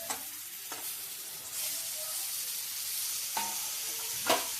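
Squeezed ambadi greens hit hot oil in a pan and sizzle steadily, with a few sharp stirring scrapes and clinks of a utensil over the continuous frying hiss.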